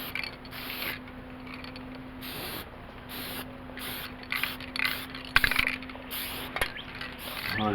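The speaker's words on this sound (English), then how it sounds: "I'm going to take this cheap black spray paint, same stuff I used on the rims" Bursts of black aerosol spray paint hissing from a can in short repeated blasts with pauses between, close by, alongside some light clicks and handling noise.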